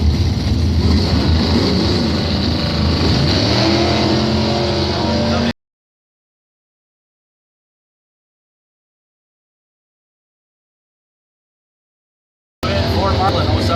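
A Chevy 400-powered 1981 Camaro drag car roars at a drag strip, its engine droning under an announcer's voice, then cutting to a long silence before the noise resumes.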